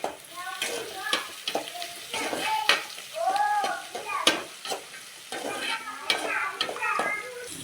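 Onions and other ingredients stir-fried in a pan for a village-style radish and radish-greens chana dal poriyal, giving a busy sizzle with repeated stirring scrapes and light clinks, close and fairly loud throughout.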